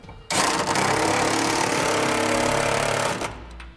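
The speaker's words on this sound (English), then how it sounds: "I'm just going to snug them up using a 3/4 inch socket." A power tool drives bolts home with a 3/4 inch socket, a loud, steady buzzing whir that starts abruptly, runs for about three seconds without a break, then cuts off.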